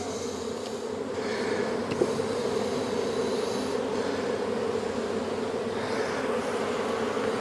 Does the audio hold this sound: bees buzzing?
yes